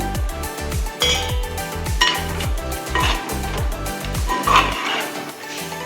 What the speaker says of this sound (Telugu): బాగా కలుపుకోవాలి మసాలా పట్టేలాగా